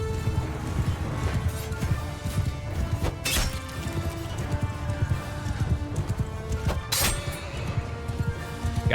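Horses gallop through a cavalry battle in Mount & Blade 2, rapid hoofbeats drumming continuously with sharp crashing impacts and an occasional whinny, moderately loud with no talk.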